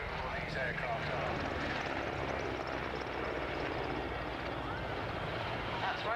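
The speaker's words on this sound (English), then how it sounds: "A bit of a flyby, low level, and you can see, yes, just how maneuverable these aircraft are." Aircraft make a low-level flyby at an air show, a steady distant engine roar holding throughout with a broad, even rumble and no clear rise or fall.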